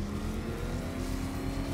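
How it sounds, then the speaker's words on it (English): Batmobile engine in Batman: Arkham Knight revving steadily with a sustained droning hum, continuous and fairly loud throughout, no speech. "Rev up my engine. No, I'm still revving too fast."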